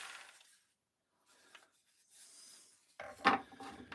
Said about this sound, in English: use a rougher sandpaper